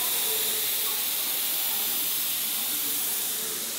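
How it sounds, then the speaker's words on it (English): Steady broadband hiss of steam venting inside the hot Kew Gardens glasshouse, continuous and even throughout with no break, close and fairly loud, with no voices over it. "Is that steam that comes out of that thing?"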